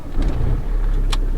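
Manual stick-shift car with the engine already idling, a steady low rumble close by, and a brief sharp tick partway through.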